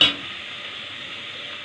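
Beef and onion with paprika, garlic and chilli being stirred and fried in a pan for an okra tagine, a steady close sizzle after a brief opening scrape, no speech.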